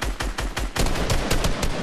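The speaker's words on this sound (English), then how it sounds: "Is there someone else shooting?" Gunfire in the Fortnite video game, heard in rapid, closely spaced shots that start with distinct bursts and then settle into a dense, loud volley.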